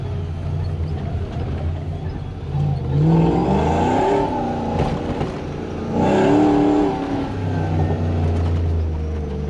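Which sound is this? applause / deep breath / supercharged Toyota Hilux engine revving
supercharged Toyota Hilux engine revving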